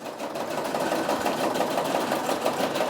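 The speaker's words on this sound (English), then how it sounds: "So we're just gonna keep on stitching, you guys." A Brother SE 625 embroidery machine stitches away at a steady rapid pace, a close, continuous buzzing mechanical chatter with no voices over it.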